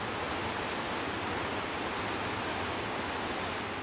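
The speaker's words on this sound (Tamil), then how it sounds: "இதனால் ஒகேனக்கலில் வெள்ளமென பாய்கிறது காவிரி" Kaveri river in flood at Hogenakkal, a dense, steady roar of rushing water that fills the whole clip without any change, heard alone.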